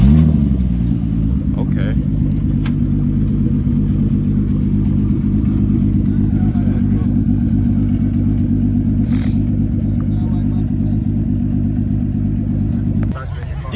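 A Porsche engine at a Cars and Coffee meet starts and settles into a steady, loud idle, with a low rumble running nearly the whole time and a brief spoken word near the start.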